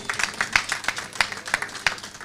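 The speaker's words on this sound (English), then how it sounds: "So let's give her a big round of applause" Applause from a general meeting audience for a committee chair, a dense crowd of handclaps with a few sharp claps standing out, sustained and fairly close without any talking.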